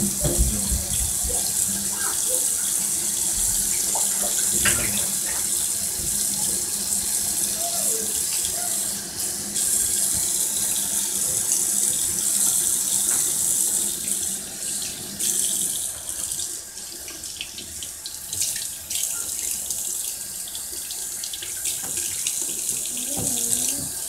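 Tap water running steadily into a sink while the temperature is adjusted for a sinus wash, a continuous close splashing flow that shifts slightly in level, with brief speech heard along with it.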